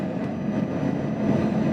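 A shuttle train travelling with a motorhome loaded aboard on a Denmark road trip gives a steady, even rumble throughout, close and continuous, with no voices.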